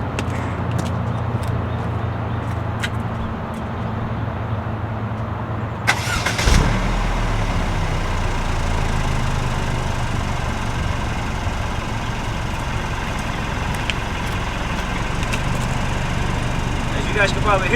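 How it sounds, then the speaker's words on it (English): A Mercedes E300 fitted with a QTP exhaust cutout, valve closed, starts up partway through and settles into a low, even idle, fairly quiet and continuous. "Alright guys, now we're going to do a start off with the cutout in the closed position."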